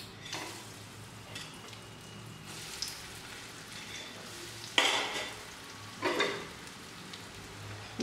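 Egg and potato kebabs fry in hot oil with a steady close sizzle, and two louder bursts of crackling spatter rise sharply and fade.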